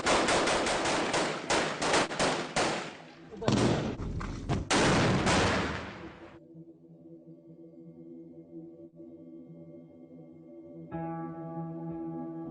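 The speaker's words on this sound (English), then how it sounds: "the Kurds throw everything they have at the gunmen. IS return fire." Automatic gunfire and heavy shots crack out in dense bursts during a street battle between Kurdish fighters and IS militants in Raqqa, Syria, loud and close for about six seconds, then giving way to a low sustained drone.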